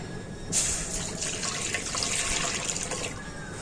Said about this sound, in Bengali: ডাবের জলটা আমি কড়াতে দিয়ে দেব